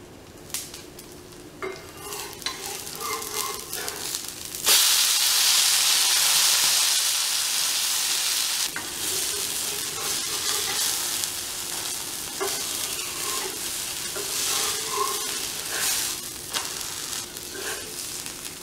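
Oil poured around a tomato dosa on a hot pan sets off a loud, continuous close-up sizzle and hiss that rises sharply partway through and then settles into steady frying crackle, with light utensil sounds.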